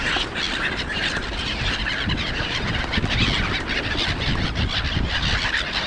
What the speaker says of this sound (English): We have our little gulls here today.